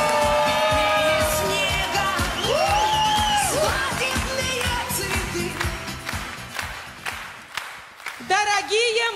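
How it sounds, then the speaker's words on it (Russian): Wedding guests clap and cheer for the newlyweds, a dense, steady burst of applause with whoops and shouts that carries on under loud music and voices. "Так, ну что, встречаем молодых бурными аплодисментами."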